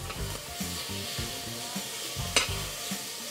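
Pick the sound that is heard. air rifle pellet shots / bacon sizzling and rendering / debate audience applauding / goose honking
bacon sizzling and rendering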